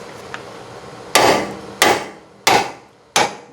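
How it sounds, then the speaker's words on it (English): Four sharp hammer blows drive a pickle fork into a VW Bus ball joint to free a stuck nut, evenly spaced metallic strikes ringing close and loud with short decays and no talking. "what you want to do is take your pickle fork"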